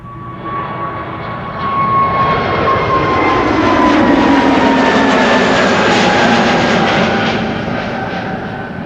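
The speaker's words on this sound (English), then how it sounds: "I wonder if this is the airplane" Passenger airliner at Amsterdam Schiphol Airport, a loud sustained jet roar that swells to a peak midway as it passes close by, then slowly eases off, with no talking.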